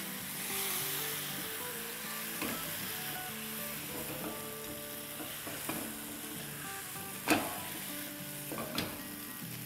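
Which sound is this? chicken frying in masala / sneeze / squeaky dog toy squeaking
chicken frying in masala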